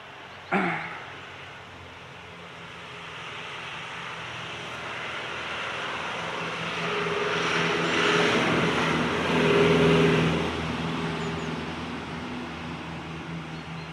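A tractor rumbles nearby, its engine growing louder as it drives past and then fading slightly, with no talking.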